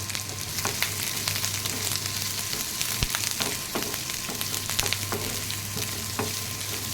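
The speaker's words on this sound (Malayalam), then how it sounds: "നമുക്ക് ആദ്യം ഈ സവാളയും പച്ചമുളകും ഇഞ്ചിയും കൂടി വഴറ്റാം" Onion, green chilli and ginger sizzle steadily in hot oil with curry leaves, frying continuously and close up, with occasional stirring scrapes under the constant crackle.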